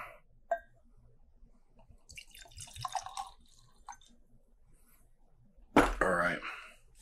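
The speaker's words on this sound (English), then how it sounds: "let's get this thing poured out." New Riff bourbon whiskey poured into a glass, preceded by a faint clink and soft liquid dribbles, then ending in a loud, close splashing pour lasting about a second.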